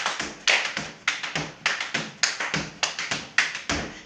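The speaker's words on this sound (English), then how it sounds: "I'm going to jump, hit my quads twice, and then land on the floor." Jumping and slapping the quads twice before landing on the floor, repeated in quick sets of sharp claps and thuds in a steady rhythm, close and alone.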